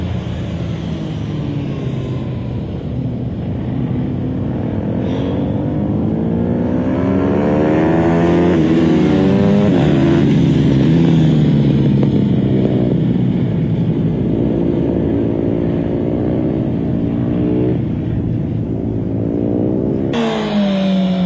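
A motorcycle engine rises and falls in pitch as the bike is flicked through a tight series of S-bend corners, a loud continuous drone with shifting revs and no voices.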